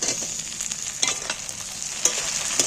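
Tomatoes fry with softened onions in a pan, giving a steady hiss and sizzle up close, broken by a few sharp stirring scrapes and spatula knocks.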